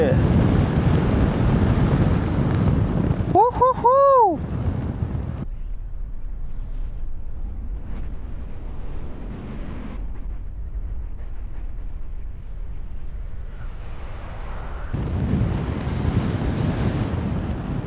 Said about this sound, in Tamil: திடீர்னு பார்த்தீங்கன்னா ஹெவியான ஒரு காற்று தான் சடனாக அப்படியே இதே ஆடுது